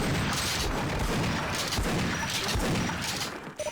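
A grenade blast in Sven Co-op booms amid dense, loud gunfire and crashing impacts, a continuous chaotic barrage of shots and explosions up close.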